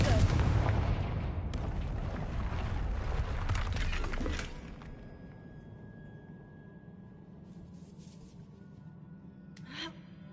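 A Confringo spell explosion in the video game Hogwarts Legacy, a loud sustained blast and rumble with crackling debris that cuts off after about four seconds, leaving quiet ambience and a faint later clatter.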